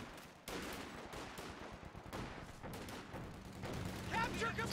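Several squads focus fire on a German MG-42 position in Company of Heroes 2, producing a rapid, dense rattle of rifle and machine-gun shots with bursts and cracks, while a commentator talks over the battle.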